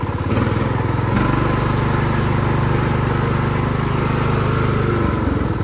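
Small engine of a Jonsered riding mower running loud and close, revving up and holding a higher pitch before easing back down near the end.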